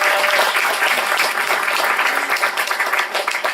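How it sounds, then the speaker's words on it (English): Loud, dense round of applause from an audience honoring two editors, many hands clapping steadily and close, sustained across the whole stretch. "Give them a round of applause."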